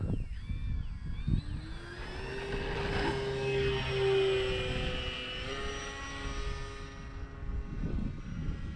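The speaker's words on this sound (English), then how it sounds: "Just want to show you how well she taxis." A small airplane taxis before takeoff, its engine a steady droning hum with slowly shifting tones, moderately close and without talk.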